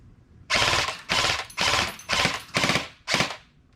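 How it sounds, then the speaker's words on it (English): An LCT LC-3 airsoft AEG rifle fires six short full-auto bursts outdoors, each a rapid buzzing rattle about half a second long with brief gaps between, close and loud; no talking. "it's time for full auto."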